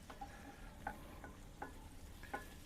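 Chicken curry gets stirred in a cast iron pot over an open fire, a faint soft sizzle with a few light scraping strokes of the spoon spaced through the short stretch.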